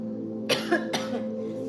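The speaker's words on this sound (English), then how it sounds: "If I can keep from coughing" Two short, harsh coughs in quick succession over a steady low hum, fairly close and moderately loud.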